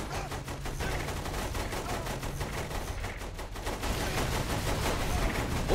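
Continuous rapid gunfire from the video game Saints Row 3, a dense, steady stream of automatic shots with no pauses, growing slightly louder toward the end.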